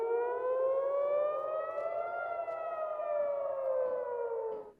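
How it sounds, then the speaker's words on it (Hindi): An air raid siren wails over Jerusalem after an Iranian missile attack, one long, loud, sustained tone that rises and slowly falls in pitch, heard alone and fading at the end. "तो ये जो सायरन की आवाज आप सुन रहे हैं, यरूशलेम में ईरान के द्वारा दागी गई मिसाइलों के बाद सायरन बज रहे हैं"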